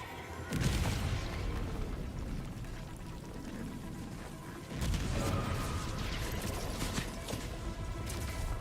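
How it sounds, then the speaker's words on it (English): Two heavy explosive booms from an orbital strike in Helldivers, spaced a few seconds apart. Each one carries a long rumbling, crackling tail and debris noise. "Firing orbital strike."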